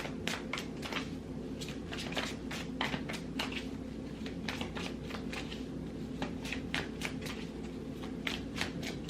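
Tarot cards are shuffled in quick, soft riffles and flicks, with a steady, close, papery rhythm that runs on without a break. No voices can be heard.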